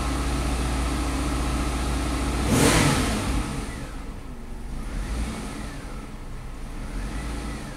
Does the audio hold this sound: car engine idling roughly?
yes